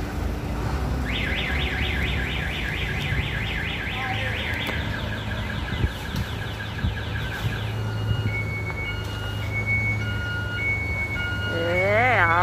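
A truck reversing under guidance on a loading job, with a sequence of rising electronic beeps over engine rumble and outdoor noise, while voices talk in the background.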